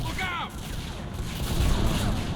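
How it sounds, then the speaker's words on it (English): Explosions and gunfire rumble through a combat scene in Mass Effect 3 among city ruins on Tuchanka, a dense continuous low roar with booms layered beneath a brief voice. "I think you're not taking any damage from the explosions."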